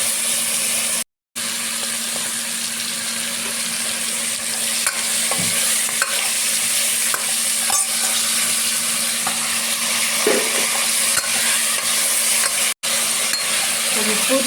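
Bone-in chicken pieces sautéing in a pan for chicken rasam, a loud steady sizzle with occasional stirring scrapes throughout, heard alone without talk.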